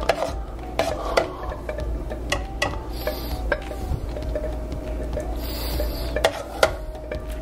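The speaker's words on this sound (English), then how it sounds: "I'm gonna just do a little stirring with this clean spoon" A clean spoon stirring Persian butternut squash and saffron soup in a pot, giving soft, steady scraping and clinking close up, with faint background hum and no talking.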